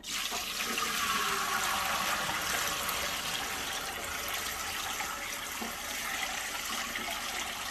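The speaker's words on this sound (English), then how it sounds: "So now I'm going to tip this up and hopefully carefully pour this into the stock pot." Liquid is poured steadily into a stock pot during home pressure canning, making a continuous, even rushing and splashing stream from start to finish with no voices.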